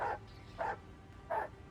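A dog barks three times in Warhammer 40,000: Rogue Trader, short evenly spaced yaps at a steady rhythm over quiet game ambience.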